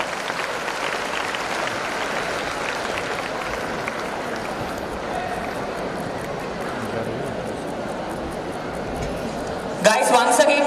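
Audience at a career enhancement programme event applauding during a felicitation, a long, dense, steady wash of clapping, with a louder burst of claps near the end.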